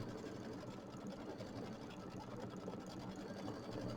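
An embroidery sewing machine stippling a quilted star runs steadily at close range, a dense, continuous mechanical whir with rapid needle chatter and no pauses or talk.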